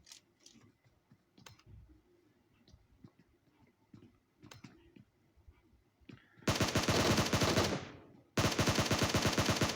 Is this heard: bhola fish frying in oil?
no